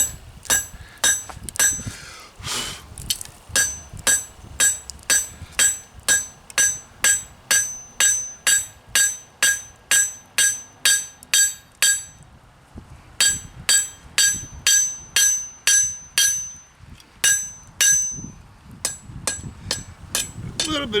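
Hammer blows flatten a hot metal spoon blank, a long run of sharp ringing strikes in a steady rhythm with brief pauses, loud and close.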